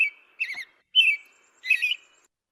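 Birds singing outdoors, three short bright chirping phrases separated by pauses, fairly near and clear against a quiet background with no talking.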